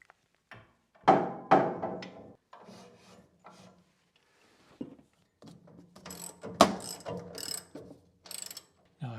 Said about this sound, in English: And then snug up those jam nuts.